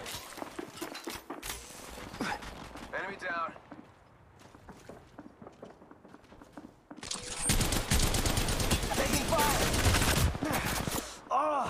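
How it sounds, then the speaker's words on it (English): Rapid bursts of gunfire in the mobile shooter game Apex Legends Mobile, sparse shots early, then a dense, loud sustained volley in the second half, with a player's voice talking over the shooting. "Oh, yeah, I'm getting shot at."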